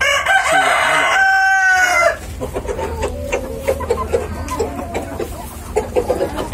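Free-range Vietnamese native backyard chickens: a loud, close rooster crows once for about two seconds, then hens cluck and murmur steadily in the background with scattered pecking and rustling.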